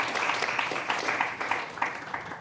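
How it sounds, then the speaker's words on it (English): Audience at a university student entrepreneurship event clapping hands in an auditorium, a brief burst of dense, moderately loud applause with individual claps audible. "can you just clap hands for that?"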